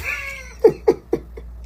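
A cat meowing close by, a few short rising cries in quick succession after a faint opening call, with no voices alongside.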